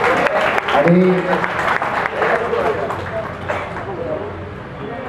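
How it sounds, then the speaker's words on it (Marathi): An audience at a poetry recital clapping loudly for a few seconds, the applause fading as a speaker's voice continues over it. "जरा जोरदार टाळ्या वाजवू द्या,"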